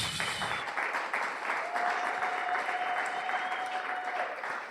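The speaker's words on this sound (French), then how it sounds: "Acclamons pour la gloire de Jésus" A church congregation at a Sunday worship service clapping together, a dense, sustained round of applause filling the hall at a steady level from start to finish.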